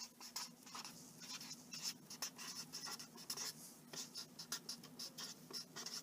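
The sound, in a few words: writing on a board during a math lesson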